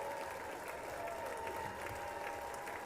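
Crowd applause and cheering at a State of the Union address, a steady, dense wash of clapping filling the whole stretch at moderate distance, with faint voices mixed in.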